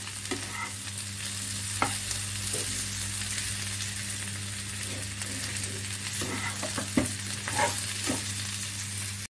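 Potatoes being stirred with salt and sambar masala in a pan for dosa stuffing: a steady soft sizzle with intermittent scraping stir strokes, close and moderately quiet, no talking.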